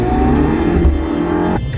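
A MINI GP3 drives on the Nürburgring Nordschleife, its engine a loud, steady droning throb close by that eases slightly toward the end, with no voices.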